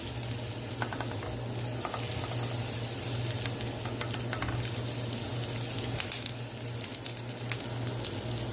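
Butter sizzles steadily in a pan on a stovetop, a constant close frying hiss with faint scrapes and clicks, no one speaking.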